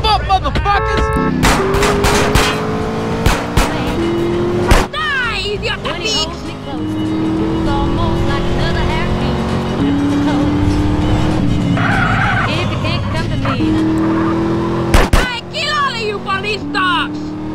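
A car in the video game Grand Theft Auto: San Andreas drives hard, with a loud, sustained engine roar and repeated tire squeals and skids, while game characters shout over it.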